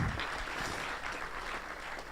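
Applause from a conference audience at a business school launch event in Rennes, a brief steady patter of clapping heard from a distance and fairly faint.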